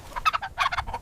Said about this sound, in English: T for turkey, gobble too.